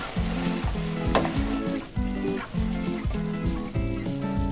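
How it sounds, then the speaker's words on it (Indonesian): Red and green chillies and onion fry with tender beef in a hot pan, a loud continuous sizzle broken by a regular rhythm of stirring scrapes. "kita masukkan cabai merah dan cabai hijau dan bawang bombaynya"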